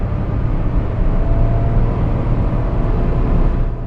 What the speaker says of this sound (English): and that is what the engine sounds like.